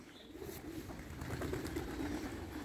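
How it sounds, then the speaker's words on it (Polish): Racing homing pigeons coo steadily inside a loft, a soft continuous low murmur of overlapping calls with faint rustling, fairly quiet throughout with no talk. "Gołębie nawet nie rozdzielał."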